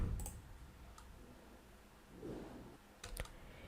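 Computer mouse clicks during a Google sign-in and setup, a few faint sharp clicks spaced apart, with a short double click near the end against quiet room noise.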